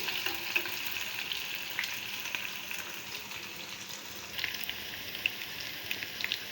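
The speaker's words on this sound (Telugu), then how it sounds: "కొంచెం గోల్డెన్ కలర్లో వేగే వరకు ఫ్రై చేస్తున్నాం" Frying in a pan for a tomato and broad bean curry, a steady soft crackling sizzle throughout with occasional faint pops and light stirring clicks, no talking.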